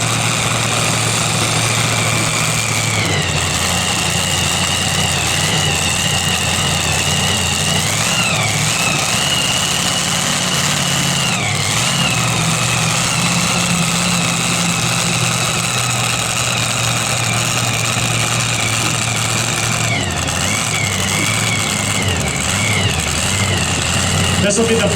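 A modified 4x4 pickup truck's heavy engine idles steadily and loudly close by before a truck pull, a low rumbling drone that holds even throughout with small wavering shifts in pitch.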